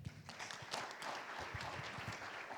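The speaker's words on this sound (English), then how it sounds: "A round of applause to our distinguished panelists" Audience applause follows a panel session, a soft, distant patter of clapping from many hands.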